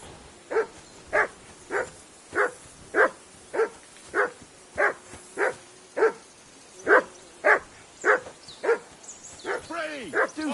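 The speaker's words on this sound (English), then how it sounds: "Do something with that mutt, Henry." Dog in Kingdom Come: Deliverance, a camp mutt on a riverbank, barks in a steady series of about fifteen sharp, fairly close yelps with a whimper near the end.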